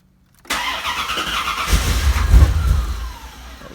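A Corvette C4 engine cranks and catches after a short silence, then roars loudly and close, revving up with rising intensity before settling, heard alone without talk.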